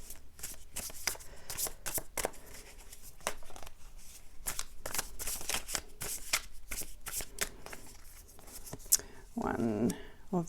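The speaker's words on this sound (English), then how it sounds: "I'm just going to pull one from the Lightseers Tarot just as an outcome card for you" Lightseers Tarot cards shuffled by hand in repeated quick riffles and soft slaps, close and fairly quiet, ending in a card being drawn.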